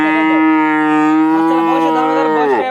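A Sindhi cattle calf, about five and a half months old, gives one long, loud moo close by, a steady drawn-out call that bends and drops at the very end.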